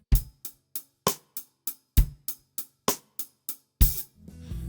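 A drum kit plays a groove in 12/8: a steady run of sharp, evenly spaced hits with a few heavier accents, played close and alone, ending in a crash.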